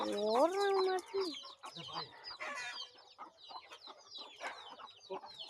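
Farm chickens cluck and squawk close by, opening with a loud drawn-out call and followed by a busy run of short clucks, with a person talking intermittently among them.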